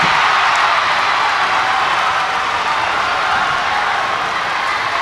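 Loud high school basketball crowd in a gym during free throws in a Taunton versus Attleboro boys varsity game, a constant roaring wash of noise with no break.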